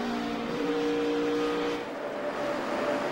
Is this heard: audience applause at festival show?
no